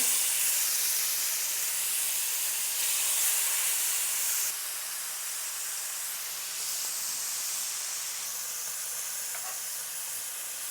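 Skirt steak sears in hot olive oil in a pan, a steady broad hiss and sizzle that holds at an even level, dropping slightly partway through and continuing without talk.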